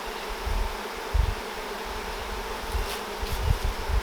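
Honey bees buzz steadily inside an opened hive during a spring inspection, a dense low droning hum that holds throughout with small swells in intensity and no voices.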